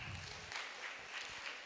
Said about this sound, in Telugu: ఒకసారి అందరు క్లాప్స్ కొట్టాలి.